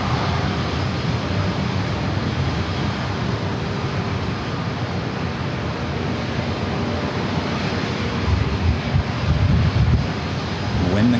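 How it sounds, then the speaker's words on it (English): A Lufthansa Airbus A350-900 arriving from Munich to land on runway 27 at San Diego airport produces a loud, continuous roar that holds steady, with some wind noise buffeting the microphone. "our next arrival, Lufthansa A350. The A350-900 coming in from Munich"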